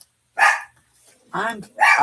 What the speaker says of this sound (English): he's barking at the mailman